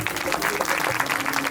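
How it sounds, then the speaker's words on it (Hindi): Steady applause from an audience at a Bhagwat Katha religious gathering, honoring a pandit, filling the whole moment with dense clapping and faint voices mixed underneath. "एक बार पंडित जी के लिए जोरदार तालियां।"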